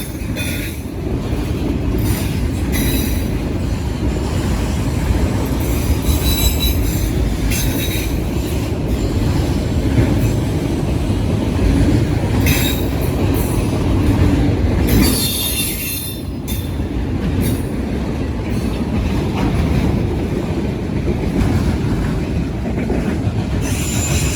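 A long Norfolk Southern freight train with a caboose rumbles steadily past nearby, wheels squealing and clattering with loud bangs over a railroad diamond crossing, continuous and heavy throughout.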